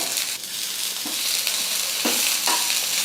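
Onion and fresh coriander sauté in a pan for chutney, making a bright, steady sizzle. Occasional scraping strokes of a spatula break through the hiss, loud and close, with no talking.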